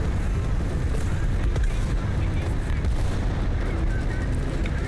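Booming tank cannon fire in War Thunder's ground battle, with several heavy thuds and rumbling explosions over steady engine and battlefield noise, a voice talking faintly in the mix.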